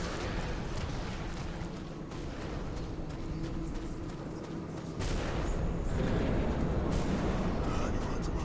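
Sniper gunfire in the video game Bloodborne: heavy booming shots crash through a dense, continuous battle mix, growing louder and thicker toward the end.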